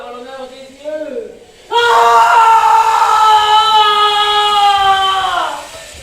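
A woman's loud, sustained wail during a stage play, rising after a brief softer cry and held for several seconds before cutting off, close and intense.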